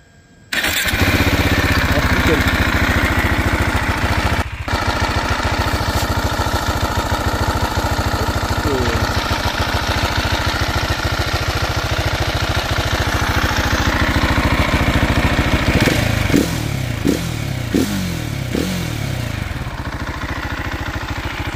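A 2019 KTM 690 SMC R motorcycle engine with a cracked piston and a sticking starter cranks and catches, then settles into a steady, loud idle with a few revving blips near the end, recorded up close.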